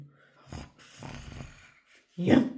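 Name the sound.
person imitating a growling dog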